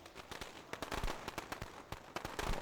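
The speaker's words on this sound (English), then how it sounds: "More fireworks to celebrate the occasion of the Lunar New Year." Rapid crackling fireworks from Puck's ability in Dota 2 burst in a dense string of sharp pops and snaps, close and busy over a short stretch.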